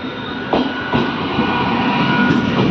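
A passenger train on an Indian rail line rolls close by with a loud, steady rumble and faint rhythmic clatter of wheels, without voices.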